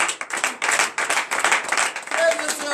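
Congregation at a morning prayer service in Benin clapping in acclamation, a steady run of sharp claps from many hands with a voice speaking over them.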